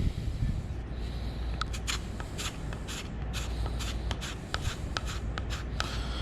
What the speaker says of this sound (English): And then I'm gonna come back and scrape off the excess with the grain.